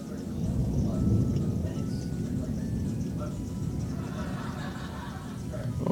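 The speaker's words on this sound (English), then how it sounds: "That is one hell of a storm." Thunderstorm during a severe storm warning in Corpus Christi, Texas: a long, low rumble of thunder rolls steadily beneath the constant hiss of rain, loud and close, with no voices clearly heard.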